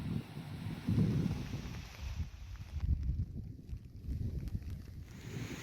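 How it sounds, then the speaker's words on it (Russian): Wind gusts buffet the microphone outdoors on the coast at Cape Menshikov, Russia, in low rumbling bursts, with a faint steady hiss behind; no one speaks. "Ветер дует с той стороны"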